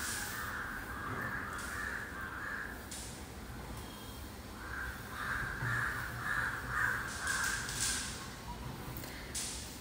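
Crows cawing repeatedly in a rainy monsoon forest at Sanjay Gandhi National Park in Borivali, harsh calls coming in bursts over steady damp background noise, with other birds faintly calling.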